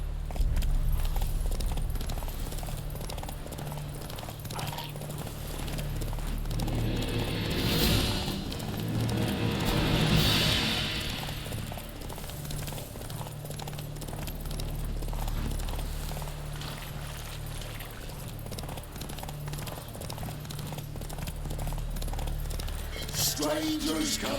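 The horse Roach walks along in The Witcher 3, hooves clip-clopping in a steady rhythm with some tack jingling, set against outdoor game ambience, with a couple of louder hoof passages.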